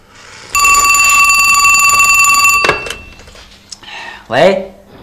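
An indoor telephone rings with a bright, steady electronic trill for about two seconds, then stops, followed by a clatter of the handset being picked up and a brief voice.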